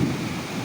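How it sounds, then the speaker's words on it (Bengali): Heavy rain pours down outdoors with a deep rumble of thunder, a brief dense wash of noise that is loud and continuous with no voices. "বাইরে দেখো কতটা বৃষ্টি হচ্ছে।"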